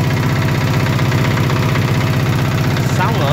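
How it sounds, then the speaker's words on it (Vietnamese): A Yamaha HX6 6 HP engine runs steadily at idle nearby, a loud, even mechanical throb with constant vibration throughout. "Hôm nay em lên cho anh em một con máy là HX6 nhé."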